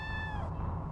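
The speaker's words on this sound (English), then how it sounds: "Oh, a cat." A single short cat meow in a video game, fairly soft and sliding downward, then fading into a low background hum.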